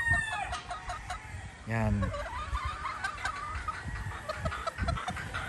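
A hen clucks nearby, one short rhythmic burst standing out over faint clucking and background noise, while someone speaks briefly.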